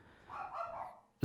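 Dogs bark in the background, muffled and somewhat distant, under a steady hum of indoor room noise, with one louder, sharper bark bursting in at the very end.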